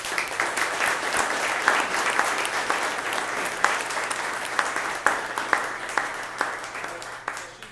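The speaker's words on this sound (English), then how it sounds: "let's give a round of applause." An audience gives a round of applause after a talk at a seed company, a steady mass of clapping with a few sharper individual claps standing out as it gradually thins toward the end.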